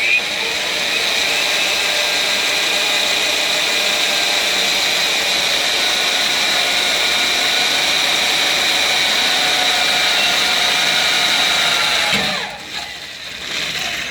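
A drill whines steadily for about twelve seconds, loud and close, boring a pilot hole at a center punch mark in an engine crankcase, then cuts out abruptly.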